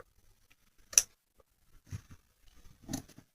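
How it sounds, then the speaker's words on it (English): Scissors trim paper for a papercraft card, giving three sharp separate snips about a second apart in a quiet room, with faint handling rustles between. "Using the sharp part of the scissors preferably."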